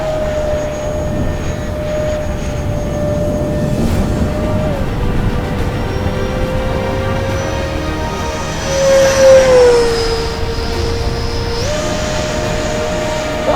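An E-flite F-15 Eagle RC jet flies overhead with a steady whining engine drone whose pitch shifts and sweeps as it passes, swelling louder briefly near the middle before settling back.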